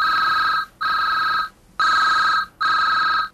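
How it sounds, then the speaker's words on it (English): Telephone ringing in the 1996 Superscape virtual reality toolkit demo: an electronic two-tone ring in four even bursts with brief gaps between, loud and clear with no voices over it. "And irritatingly, the phone would ring."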